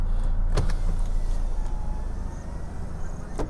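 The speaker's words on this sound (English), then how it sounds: "ఇక్కడ తీసుకుంటే మనకి ఈ ఫోర్ కూడా power Windows with single button touch automatic, just one click" Electric one-touch power window on a 2021 Toyota Innova Crysta ZX facelift, a steady whirring motor hum running for several seconds inside the cabin, with faint clicks at the start and end.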